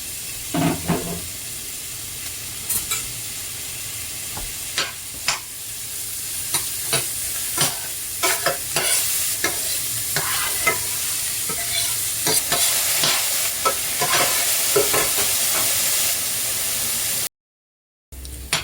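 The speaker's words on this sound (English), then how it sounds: "A little bit of sizzling." Half a yellow onion sizzles in a hot skillet, a loud continuous hiss broken by frequent sharp pops and crackles, near and steady, with no talking until a brief dropout near the end.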